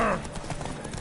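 Roach the horse starts galloping in a video game race, quick hoofbeats thudding under a brief burst of voice at the very start.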